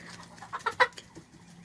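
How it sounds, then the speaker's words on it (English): Free-range farm chickens cluck in a quick burst of a few short, close calls, surrounded by quiet background. "Chickens make the funniest sounds."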